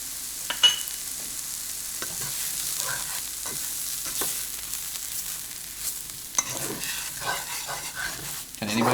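Flour being stirred into meat for Salisbury steak meat loaf in a frying pan over medium heat, with a steady sizzle broken by scraping stirs and occasional clacks of a utensil, heard close and without talk.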